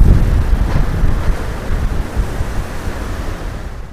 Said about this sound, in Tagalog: Pero yung hangin talaga, grabe.